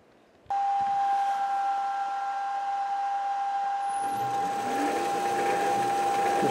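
A metal lathe turns a mild steel bar, 1¼ inch in diameter, down to size, giving a steady close machine whine with a sustained pure tone, and a rougher cutting hiss joins in toward the end.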